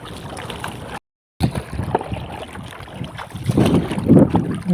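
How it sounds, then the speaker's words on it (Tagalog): Strong wind buffets the microphone in a steady roar beside mangroves, with a brief dropout, rising gusts and splashing water over an open boat. "malakas na po talaga ang hangin ngayon"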